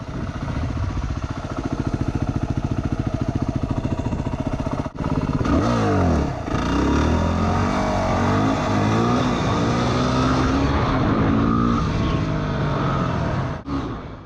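Yamaha WR250R dirt bike engine while riding, a loud, close, continuous buzzing drone that rises and falls with throttle changes, including a couple of brief dips and revving swells.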